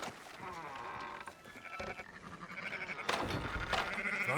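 Sheep bleating in a Western open-world video game, several animals calling in overlapping drawn-out bleats amid a herd's shuffle, moderately close and loud, with no clear talk over them.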